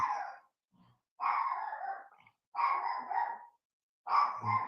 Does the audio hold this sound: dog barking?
yes